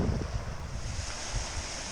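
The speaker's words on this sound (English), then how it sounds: "here we can see the water from the lock entering into this lower pond" Water surges out of a canal lock paddle into the lower pond at Watford Staircase Locks, a steady close roaring rush with heavy low rumble and wind buffeting on the microphone.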